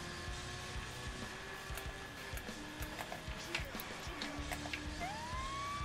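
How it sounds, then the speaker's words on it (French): A police car siren wails in the Saints Row The Third video game, its rising and falling tones sweeping over a busy background of driving and city noise, with a final upward swoop near the end. "c'est mieux, ça, avec la sirène"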